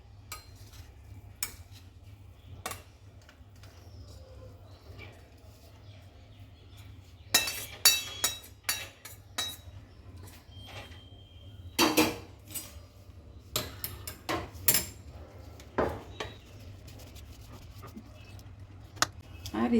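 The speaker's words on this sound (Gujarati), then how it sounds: "આપણે આ સુખડીને એક ડીશમાં ઢાળી દઈશું." Wheat-flour sukhadi sweet being scraped and spread from a pan into a dish: scattered metal clinks and scraping of a spoon against steel, in bursts with quiet gaps, over a low steady background hum.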